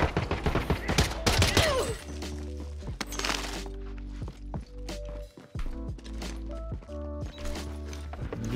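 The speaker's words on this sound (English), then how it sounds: "Being shot from different teams." Gunfire in the video game Warzone rattles in rapid bursts, mixed with mechanical clicks and footsteps over a steady low drone, while players talk briefly underneath.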